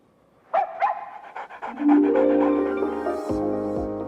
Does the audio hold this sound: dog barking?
yes